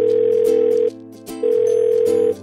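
Telephone ringback tone plays before a call is answered, with two long buzzing rings separated by a short pause, and faint clicks underneath.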